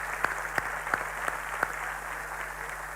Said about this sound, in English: Okay, big round of applause for the diversity.